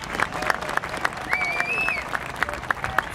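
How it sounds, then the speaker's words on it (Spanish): An audience at a ceremony for victims of terrorism in Argentina claps in unison, sharp rhythmic beats at a quick steady pace over a low crowd murmur and a brief high whistle-like tone. "Fuerte, fuerte el aplauso."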